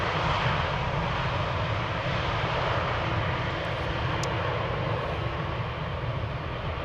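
Airliner arriving at Amsterdam Schiphol Airport, a continuous broad jet roar held steady and loud throughout, with no voices over it.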